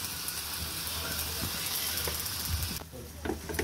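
Vegetables and pangas fish sizzling steadily in a hot pan, a dense close-up frying hiss that drops off near the end, with faint stirring noises.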